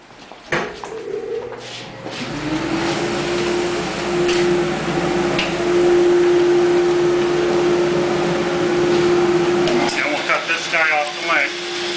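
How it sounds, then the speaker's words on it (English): A bandsaw cutting a wooden dowel starts with a thump, then holds a steady, loud whining hum for several seconds before it breaks off into rattling and scattered noise near the end. "Now we'll go to the bandsaw."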